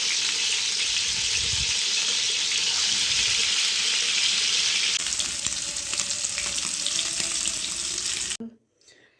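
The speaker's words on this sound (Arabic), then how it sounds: "هنا بقى قعدنا نحمر الفراخ بتاعتنا اللي تبلناها" Marinated chicken fries in a pan, a loud, dense and continuous sizzle with a faint rustle of movement that cuts off abruptly near the end, leaving near silence.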